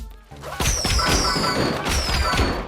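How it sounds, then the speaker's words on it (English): Fireworks in the video game Boti Byteland Overclocked, a cluster of bright crackling bursts and thumping pops with whistling tones, loud and close, several hits in quick succession. "More fireworks."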